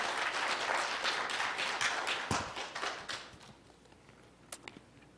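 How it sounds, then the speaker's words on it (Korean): A church congregation applauds at a Sunday service, dense clapping that thins out and fades, with a few scattered claps near the end. "박수 치시려면 크게 쳐주세요."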